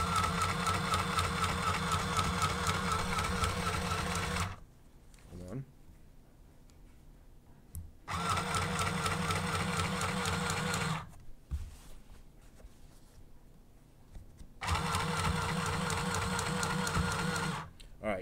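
A sewing machine stitches a thick seam on a tripod carrying bag in a workshop, running in three loud steady bursts separated by short pauses, with a voice talking over the stitching.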